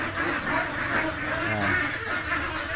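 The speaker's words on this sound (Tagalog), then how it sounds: "Ano doon yung mga itik 4 months old." Four-month-old ducks in a pen with a cement floor and steel matting, a steady mass of overlapping quacks and calls filling the space continuously at close range, with some background voice mixed in.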